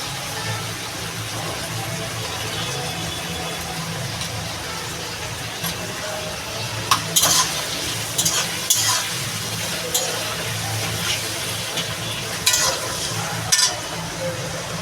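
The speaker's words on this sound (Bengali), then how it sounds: "একটুখানি নুন দিয়ে দেবো তাহলে তাড়াতাড়ি আমার পেঁয়াজটা ভাজা হয়ে যাবে" Onions fry with a pinch of salt in a home kitchen pan, a steady close sizzle running throughout with occasional sharp clicks and scrapes of stirring.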